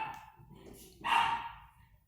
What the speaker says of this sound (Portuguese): aqui é meu cachorrinho latindo.